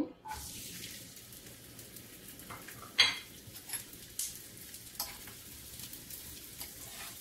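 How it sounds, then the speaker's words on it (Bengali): Steady sizzling of chopped onion and garlic frying in hot oil, with occasional clinks and scrapes of a utensil stirring in the pan. "পেঁয়াজ রসুন কুচি দিয়ে দেব।"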